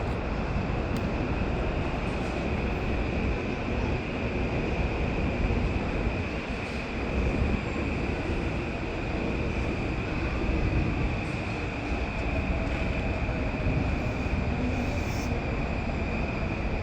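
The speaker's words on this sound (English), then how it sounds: "the first train we caught at New Rochelle was the Metro North Christmas train" The Metro North Christmas train rolls past on the rails at New Rochelle station with a steady, moderately distant rumble that holds evenly for the whole stretch, with no talking over it.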